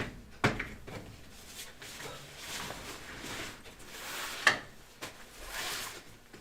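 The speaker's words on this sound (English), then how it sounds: "This way I can kind of slide the fabric drawer." A fabric storage drawer slides open and closed, with soft scraping and a couple of sharp bumps as it knocks into place, quiet and close, against a hushed room.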